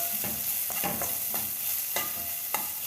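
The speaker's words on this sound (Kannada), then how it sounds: "ಫ್ರೈ ಮಾಡ್ಕೊಳ್ಳೋಣ." Onion fries in a pan for a gorekayi palya, giving a steady sizzle broken by repeated scraping strokes of a spoon stirring it, close and fairly quiet, with no talking.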